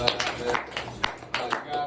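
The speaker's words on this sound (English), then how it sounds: "I guess a lot of clapping today" A group of people claps in a short, uneven burst, the individual claps loud and close, with a voice partly underneath.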